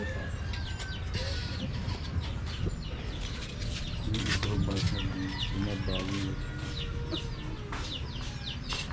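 Chickens cluck and squawk near and far in a farmyard at feeding time, with scattered wing flaps and people talking quietly underneath.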